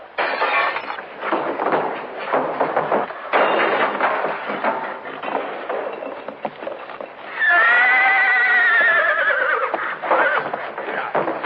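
A horse whinnies loudly near the end, a rising then falling harmonic neigh, after a stretch of scuffling, hoof clatter and commotion.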